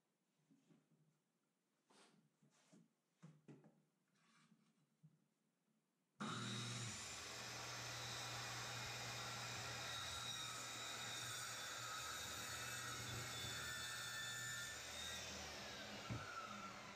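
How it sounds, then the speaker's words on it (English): A table saw cuts a starter strip groove into a wooden hive top bar held in a clamp jig. A loud, steady whine starts suddenly after a few soft knocks and carries on at full strength. "I go ahead and clamp in the top bar and get ready to cut the groove for the starter strip"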